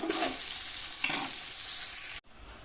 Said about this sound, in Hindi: हमारी चिकन को अच्छी तरीके के साथ उबाल आ चुका है